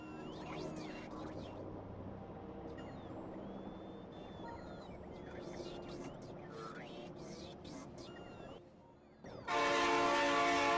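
In the game Factorio, a train rumbles through a busy stretch of machinery and effects. Near the end its horn suddenly blasts loud and sustained.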